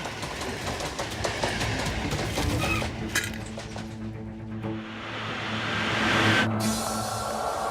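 A cartoon train rolls past in a rumbling, clattering rush, loud at first and fading slightly before a bright crash-like burst near the end.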